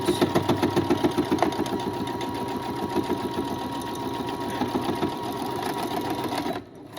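A sewing machine stitches a lavender-filled knee pad, running in a fast, steady mechanical whir with rapid needle thumps. It is close and loud, then stops abruptly near the end.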